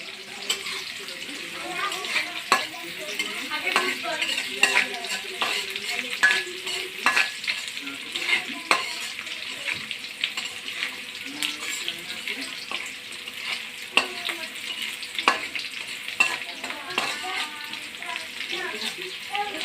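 Garlic cloves and mixed vegetables stir-fried in a pan, with a steady sizzle and repeated scraping and clacking of the spoon against the pan running throughout at close range.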